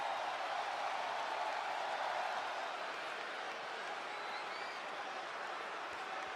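A wrestling arena crowd roars and applauds in a dense, sustained wash of cheering and clapping that holds steady throughout, with no break in the noise.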